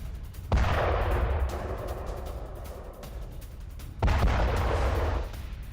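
Heavy artillery fire and bombardment in war footage from the Russia-Ukraine fighting around Donetsk, two loud booming blasts with rumbling decay, the first near the start and a second about three and a half seconds later.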